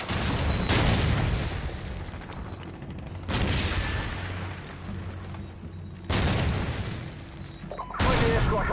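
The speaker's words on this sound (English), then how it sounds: "Tossing stun grenade!" Heavy booming blasts from a Call of Duty 4: Modern Warfare match on Xbox One S, with loud explosion bursts about every three seconds over a rumbling battle background.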